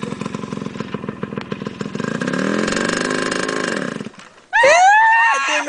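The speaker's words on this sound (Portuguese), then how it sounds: "liga a moto" A motorcycle engine cranks with a buzzing, uneven rumble, then catches and revs up loudly and close in a rising whine.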